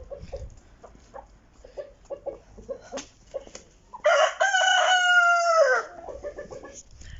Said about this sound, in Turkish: Bu da mavici horoz. Hepsinden güzel.